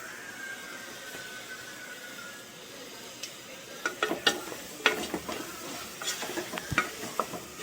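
Ginger garlic paste frying in a pan for veg biryani, with a soft sizzle that turns into bursts of loud crackling and scraping stir strokes in the second half, no voices.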